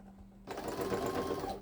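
A sewing machine stitches a fabric headcovering, starting abruptly after a brief low hum and running in a steady close whirring burst.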